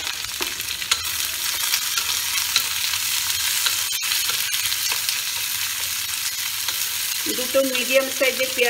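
Two medium onions sizzling steadily in hot oil with torn bay leaves for chicken with raw mango, a loud, close, continuous frying hiss, with brief stirring scrapes near the end.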